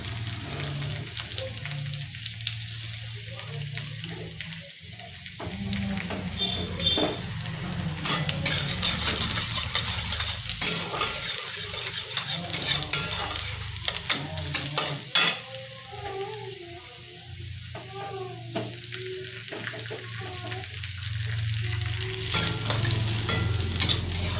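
Ginger, garlic and chopped onion hit hot ghee for a vegetable soup base, giving a loud, continuous sizzle and crackle close by, broken by repeated scrapes and stirring of a spatula in the pan.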